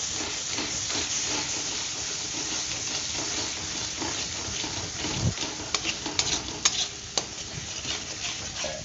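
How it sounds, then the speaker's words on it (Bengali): Ginger garlic paste fries with onion in hot oil for a Bengali doi katla fish curry, a steady close sizzle and hiss broken by a few sharp clinks of stirring near the end, with no talk. "এই আদা রসুন পেস্টটা আমি এখন দিয়ে দেবো এটার মধ্যে।"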